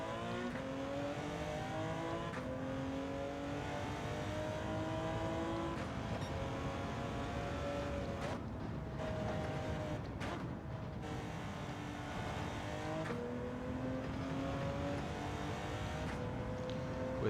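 Porsche 917K race car engine in Gran Turismo 7, on the Sardegna Road A circuit; a loud, continuous racing engine note that revs up and down repeatedly through gear changes and braking, with brief throttle lifts.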